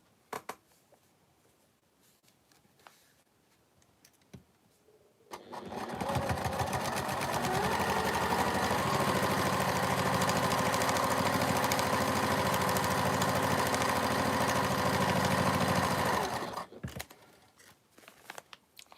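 A sewing machine joins quilt blocks for a Christmas wall hanging, starting after a few seconds of quiet fabric handling and then running at a loud, steady, fast whirr for about ten seconds before stopping.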